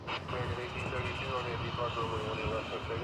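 An American airliner takes off at DFW Airport, its engines giving a steady, distant roar across the runway while a person talks over the noise.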